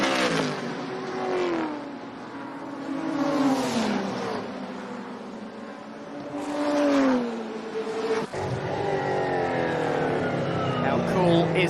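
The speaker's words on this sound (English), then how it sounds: "Let's have a listen to some of these cars. They head around the track here at Sydney Motorsport Park." Replica touring race cars lapping Sydney Motorsport Park during a Hi-Tec Oils Super Series round, engines rising and falling as they pass and accelerate through the corners, with several loud drive-bys over steady circuit noise.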